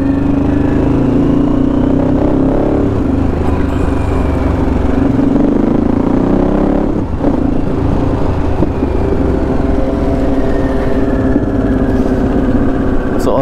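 A new motorcycle engine runs steadily and loudly close by, holding a continuous idle-like drone for the whole stretch with slight shifts in pitch, and voices are faintly mixed in underneath.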